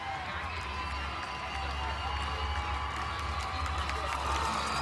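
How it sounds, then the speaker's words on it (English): The crowd at a high school football state championship game cheers with a distant, steady roar as the championship trophy is handed to the coach, low murmur and shouts blending under a faint voice. "you'll hear just a slight roar of the crowd when that championship trophy is delivered to Coach Williams"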